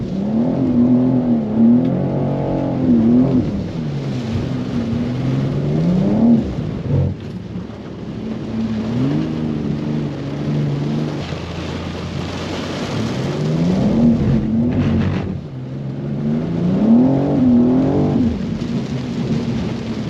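A 2024 BMW G87 M2 driving through heavy rain in hurricane conditions, its engine rising and falling in repeated revs and accelerations over a constant roar of rain and road spray, no talking.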